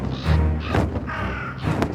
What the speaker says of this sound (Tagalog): Tumunog ng sabay-sabay ang mga uwak sa paligid.